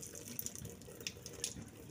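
Water running from a tap in a home kitchen where fish fillet is being prepared, a faint, steady splashing stream with no talk over it.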